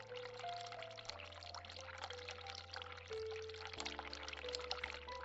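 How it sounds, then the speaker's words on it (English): A cold water tap runs in the video game The Cat Lady, a soft steady pouring under a droning, sustained music bed. "Turn cold water on."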